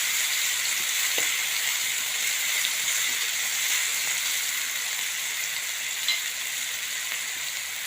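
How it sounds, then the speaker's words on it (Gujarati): Garlic and onion frying in a pan, a steady loud sizzle and hiss running continuously with faint stirring clicks. "લસણ ડુંગળી આપણે નાખી દઈશું. થોડુંક શેકી લઈશું આપણે આને."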